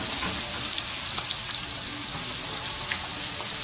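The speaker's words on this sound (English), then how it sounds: "So I'm going to sear it for about 2 minutes on each side." A T-bone steak sears in a hot pan, giving a steady, close crackling sizzle with scattered sharp pops and spits, continuous and fairly quiet throughout, with no talking.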